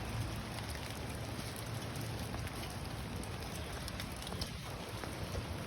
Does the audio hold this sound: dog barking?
no